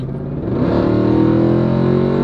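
A Jeep Trackhawk SUV engine accelerating hard, a loud close revving roar that climbs in pitch and holds steady.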